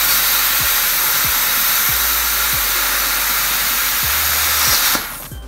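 Femmto plasma cutter running a steady, loud hiss on steel plate, with a faint repeating low tick underneath, and the hiss cutting out abruptly near the end; no talking.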